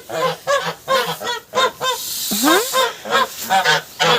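Repeated goose honks in short bursts, close by, with one rising honk standing out in the middle.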